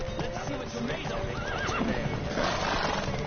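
A horse whinnies loudly and gallops with rapid hoofbeats during a horse race in The Witcher video game, set against a dense, noisy game soundscape.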